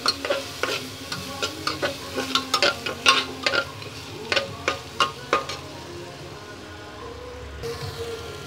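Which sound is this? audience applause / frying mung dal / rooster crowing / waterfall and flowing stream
frying mung dal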